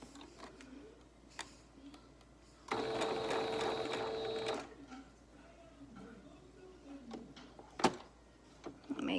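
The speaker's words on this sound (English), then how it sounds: "And then back stitch once I've gone over it, and forward stitch." A sewing machine runs in one steady burst of about two seconds, back stitching and forward stitching across a fabric medical mask with a filter pocket. Quieter handling and rustling come before and after it.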